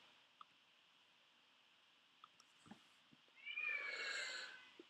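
A cat gives a drawn-out meow partway through, over a steady background hum with a few soft clicks and bumps.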